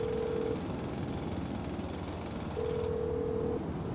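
A phone calling tone from the video game GTA V repeats steady ringback beeps, one at the start and a longer one later, over a constant low engine drone and background hum.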